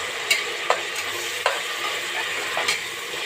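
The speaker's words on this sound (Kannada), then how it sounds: "ಸೊಪ್ಪೆಲ್ಲ ಈ ಎಣ್ಣೆ ಒಳಗೆ ಫ್ರೈ ಆಗಬೇಕು" Coriander and fenugreek leaves fry in oil for a vegetable pulao, a steady broadband sizzle with a few sharp clinks of a spoon stirring against the pan, close and alone without voices.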